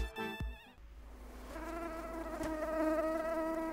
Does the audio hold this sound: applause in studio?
no